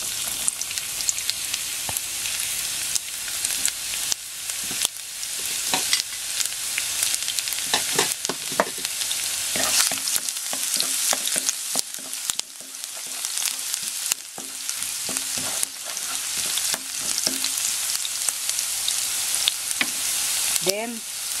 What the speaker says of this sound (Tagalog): Igisa po natin itong garlic.